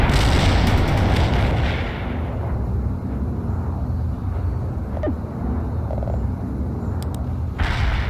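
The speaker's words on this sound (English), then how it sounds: "Artillery strike is inbound." Artillery strike explosions in the video game World in Conflict, a loud opening barrage of booms that fades into a lingering rumble with scattered smaller impacts, no speech.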